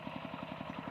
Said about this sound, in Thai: เสียงเครื่องรถไถอีตักเพิ่นดูดน้ำใส่หน้าเข่าปัง